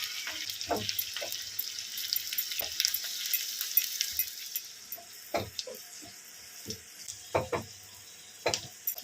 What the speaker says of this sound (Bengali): লোতে দিয়ে রসুনটা, লঙ্কাটা আর আদাটা একটু ভালো মতো ভেজে নেব